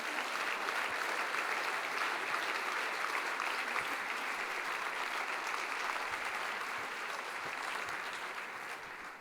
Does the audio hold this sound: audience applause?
yes